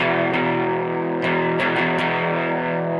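Electric guitar plays sustained chords through a mild, low-gain distortion, warm and slightly gritty, with a few picked accents and no voices.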